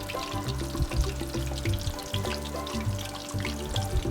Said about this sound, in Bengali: তারপর আস্তে করে চিকেনের পিসটা তেলের মধ্যে ছেড়ে দিলাম।